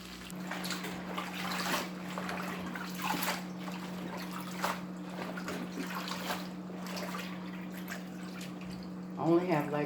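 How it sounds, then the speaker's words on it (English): Water runs steadily from a tap while greens are washed, a continuous close splashing wash under a constant low hum, with a voice talking over it and a brief louder splash near the end. "I'm going to start washing the greens"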